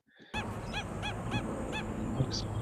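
Protective calls from a parent stilt guarding its chick at Cooks River: four evenly spaced, piercing yelps ring out over a constant ambient hiss, with a brief higher chirp near the end.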